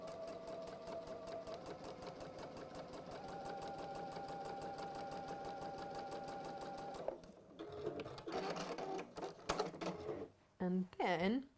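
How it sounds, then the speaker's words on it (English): A sewing machine runs close and continuously for about seven seconds, sewing a straight line with a steady rapid whir, then stops with handling clatter and a few short restarts. "And then sew your next line."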